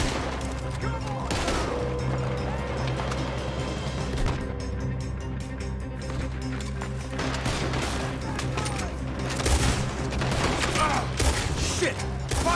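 Bursts of gunfire from a Red Dead Redemption 2 shootout, with repeated shots and volleys over a dense game soundscape while voices talk throughout.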